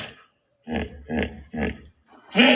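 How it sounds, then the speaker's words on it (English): Deep, rumbling grunts from a hippopotamus, three evenly spaced bellowing pulses followed by a louder fourth burst after a brief pause, close and alone with no talk. "That was a hippo."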